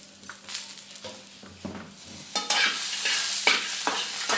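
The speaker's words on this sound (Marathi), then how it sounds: "थोडेसे शेंगदाणे घालं मग आपण ह्याला चांगलं भाजून घ्यायचं आहे थोडीशी जिरे थोडं आलं" Peanuts, cumin and ginger roast in a pan for a fasting chili thecha, with a spoon scraping and stirring in short strokes. Sizzling swells louder midway and stays up, close and without talk.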